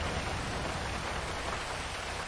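Steady, dense rain in GTA V keeps up an even hiss, close and unbroken, with no one talking.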